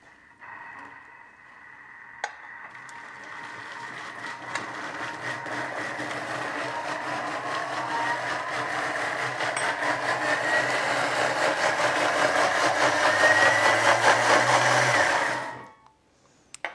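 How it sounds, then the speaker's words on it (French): A Thermomix blends fish, vegetables and citrus at speed 10: a loud, steady, close motor whir that holds and slowly builds for about thirteen seconds, then cuts off abruptly. "Et là, ils me disent de mixer 10 secondes, vitesse 10."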